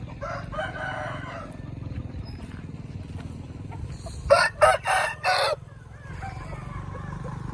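A few rooster crows ring out one after another, fairly close, over a steady low background hum, from breeding roosters on a farm.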